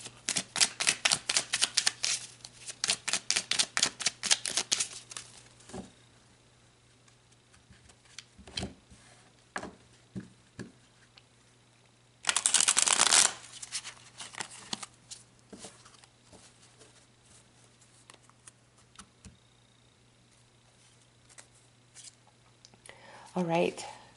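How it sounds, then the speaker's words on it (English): Tarot cards being shuffled with a rapid, dense run of crisp riffling flicks, then scattered soft taps and slaps as individual cards are pulled and laid down, with one longer burst of card noise midway. "So let's pull some more cards."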